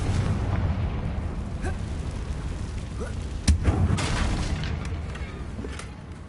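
A single deep booming blast from the Confringo fire spell in the Hogwarts Legacy video game, a short thud rising out of steady game ambience partway through, with low rumbling after.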